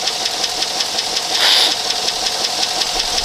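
A one-ton crew cab long box dually truck engine runs at idle with a steady, rhythmic ticking knock and a brief louder swell midway, no voices.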